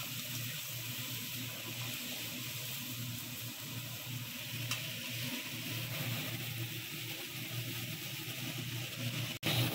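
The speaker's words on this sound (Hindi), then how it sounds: "अब जा रहा मिर्ची, जाके इसको कर दे रहा मिक्स।" Chillies sizzling in a hot pan while being stirred in, a steady hissing sputter that stays even and fairly quiet throughout, with a brief sharp knock near the end.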